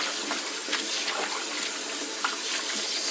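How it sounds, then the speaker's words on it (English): Running tap water pours steadily over salted greens being rinsed in a kitchen sink, a continuous close rush of water with small splashes, heard alone with no talking. "I wash this salt off and put this a little closer. Wash these."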